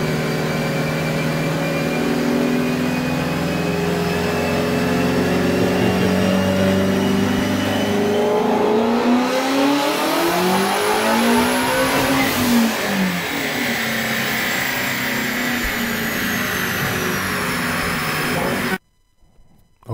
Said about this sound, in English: So this is his dyno pull.